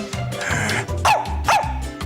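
A person's voice imitates an angry dog, giving several gruff, loud barks and yips in close succession, with no other sound alongside.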